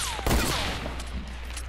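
A short burst of gunfire in Fortnite as a player fires through a window, with one loud sharp report and a rattling tail that fades quickly.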